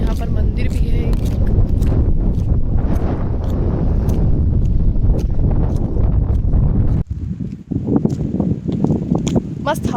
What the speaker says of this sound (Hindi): मस्त हवा चल रही।